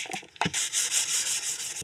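Rapid scratchy rubbing of a soft sanding block with 600-grit wet-and-dry paper and soapy water over carbon fibre, steady back-and-forth strokes, close and fairly loud.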